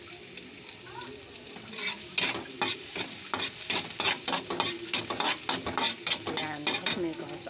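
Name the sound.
sautéing garlic in a pan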